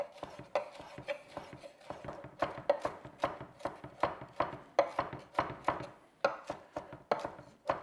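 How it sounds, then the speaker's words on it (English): A kitchen knife roughly chopping jalapeños on a cutting board, with a steady run of crisp, close knocks against the board, no talking. "I just want to give it a rough chop."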